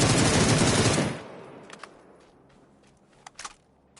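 Automatic gunfire in the PUBG video game on PS4 rattles in a loud rapid burst for about a second, then cuts off, followed by a few faint scattered clicks and shots.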